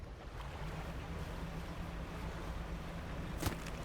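A boat in the fishing game DREDGE cruises over water with a continuous low engine hum and steady wash of waves. A brief sharp click sounds near the end.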